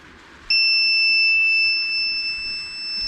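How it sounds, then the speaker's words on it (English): A steady high-pitched electronic beep from a LiFePO4 battery or its inverter starts abruptly and holds continuously, two pure tones sounding together, loud and close over faint background hum. "What's beeping? Is the battery? It could be actually the inverter."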